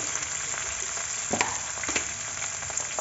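Tomato and onion fry in a pan with a dense, even sizzle and occasional stirring clatter and spoon scrapes, close and steady with no voices.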